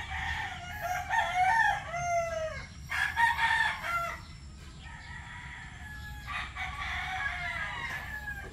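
Young Boston gamefowl, about a month old, in red, white and black strains, crow repeatedly in raspy bursts with clucking in between, fairly close against a quiet background.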